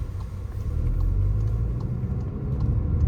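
A manual six-speed Volkswagen GTI engine hums low and steady as a learner works the clutch, a continuous close rumble heard from inside the car without talk.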